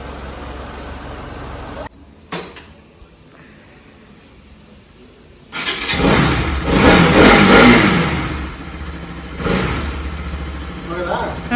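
A vehicle engine runs in a domestic setting during a birthday and Dasara festival day, quiet at first, then swelling into louder revving bursts with voices chattering over it.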